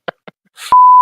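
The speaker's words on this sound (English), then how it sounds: "Oh, so many beeps." Two short blips, then a burst of noise followed by a loud, sustained electronic tone.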